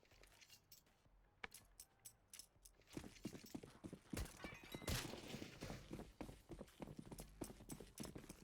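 Footsteps in a competitive video game match, heard as quiet, irregular clicking and clopping steps that grow a bit louder and busier halfway through, with no talk over them.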